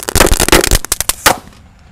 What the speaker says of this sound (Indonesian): Selanjutnya ini ada mercon telur dinotor yang ukurannya jumbo-jumbo guys